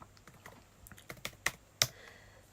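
Typing on a new laptop's keyboard with some keys not working, a run of quick, close key clicks building to a few sharper, louder strikes, with no voices.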